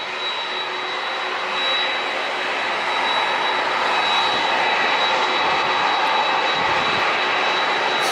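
Jet airliner engines roar steadily at San Diego International Airport as a plane takes off or lands, a loud sustained rumble that swells slightly partway through, with no talking.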